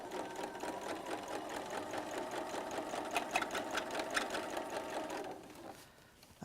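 A sewing machine stitches quilt blocks together into a row, running in a fast, steady mechanical whir that stops abruptly near the end.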